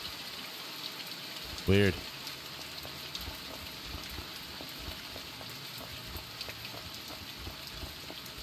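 Rain falling in The Mortuary Assistant video game, a steady dense hiss of drops throughout, with a brief louder knock early on and a voice speaking briefly over it.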